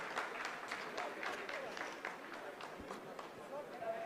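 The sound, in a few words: ISRO scientists applauding after Chandrayaan-3 descent phase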